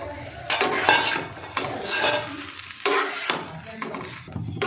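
Fried onion being stirred into an oats pulao in a pot, with repeated scraping strokes of a spoon against metal and a faint sizzle, close and fairly loud, no talking.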